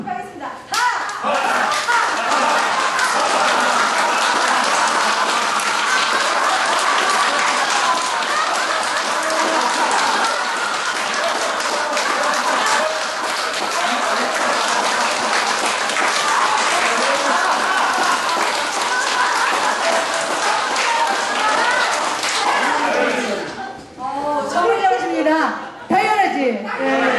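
A lecture audience claps together in sustained applause mixed with laughter, loud and dense for most of the stretch, then thinning out into scattered claps and chatter at the end.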